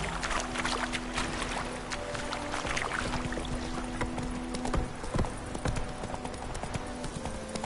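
A horse gallops in the Witcher 3 video game, its steady rapid hoofbeats close and continuous over a constant bed of outdoor ambience and low humming tones, with no voices.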